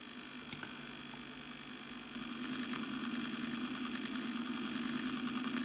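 A steady synthetic lunar lander engine drone from a Vectrex video game hums at a low, even pitch, growing slightly louder partway through and holding a constant buzzing tone.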